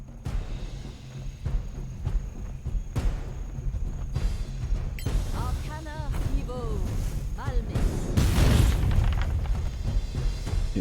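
A fireball spell bursts in the fantasy role-playing game Solasta: Lost Valley, a loud rumbling blast swelling near the end amid a dense game soundtrack, with voices speaking over parts of it.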